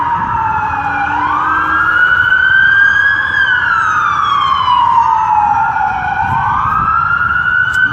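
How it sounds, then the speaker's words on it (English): Emergency vehicle sirens, including a fire truck, wail loudly and steadily in rising and falling sweeps as they pass along a street. "There's a lot of sirens here."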